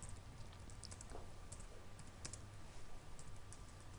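Keys on a computer keyboard tap steadily as watermark text is typed into a word processor, quick soft clicks in a near continuous run over a constant background hiss.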